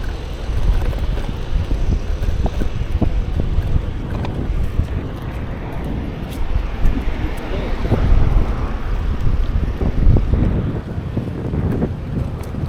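Strong wind buffets the microphone in a heavy, continuous low roar with gusty surges throughout.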